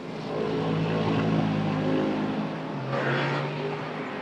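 A Farnbacher Racing Lexus GT race car drives at Estoril during a late lap of an Open GT race, its engine holding a steady, loud roar with a slight pitch rise and a brief surge near the end.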